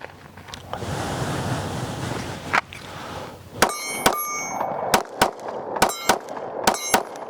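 A Glock 43X pistol fires a series of sharp, loud reports, often in quick pairs, following several seconds of steady wind rumble outdoors.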